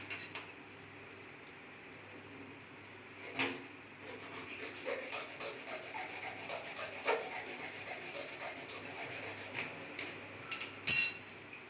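A metal rod is hand-rubbed down until it cuts through, during repair of a pneumatic cistern diaphragm pump: a faint, steady rasping scrape with a few sharper knocks and clinks near the end.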